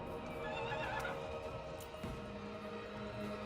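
A horse in a video game neighs and whinnies with faint hoof clip-clops, heard alone over a steady game soundtrack for a few seconds.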